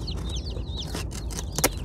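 Chickens or young chicks at home, with soft clucking and chirping calls repeating through a steady background hum; a brief louder call stands out near the end.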